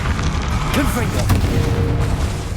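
A fiery Confringo spell explosion in Hogwarts Legacy bursts with a loud boom amid a thick, constant din of combat, with a brief bright crackle near the middle.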